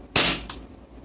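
A single sharp crack from a Tokyo Marui Glock 17 airsoft pistol, close and loud, with a brief clack of the slide cycling just after the shot.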